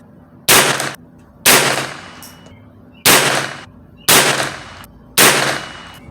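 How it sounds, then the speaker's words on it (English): Five sharp, loud shots from an HK416 rifle chambered in .22LR firing SK ammunition at a 50-yard target, spaced about a second apart, each crack followed by a short decaying ring. "I'm gonna take 5 shots at 50 yards,"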